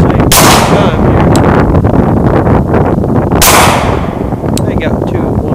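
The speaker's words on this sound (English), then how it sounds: "Trying to shoot it with the camera at the same time here." Two sharp, loud gunshots from a Glock pistol fired outdoors, spaced about three seconds apart, each cracking over a constant rumbling background noise, with a few fainter clicks between them.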